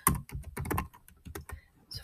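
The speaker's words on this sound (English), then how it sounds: "And then I'm typing." Keys clatter in quick, uneven bursts as someone types on a computer keyboard while entering a monthly household budget, close and clear with short pauses between runs of keystrokes.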